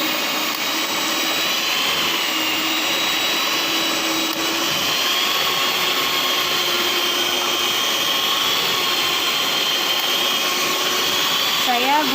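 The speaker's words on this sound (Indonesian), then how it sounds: "Kita mixer sampai benar-benar halus dan tercampur merata." An electric hand mixer running at top speed through pineapple layer cake batter gives a constant loud motor whine with no pauses, and a faint voice sits beneath it.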